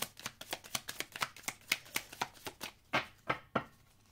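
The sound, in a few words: tarot cards being shuffled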